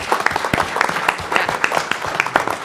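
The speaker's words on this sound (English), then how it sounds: "give a big round of applause to all the staff that supported the election this year" Applause for election staff at a county board meeting, a smaller group clapping with distinct, uneven hand claps close by, steady throughout and with no talk over it.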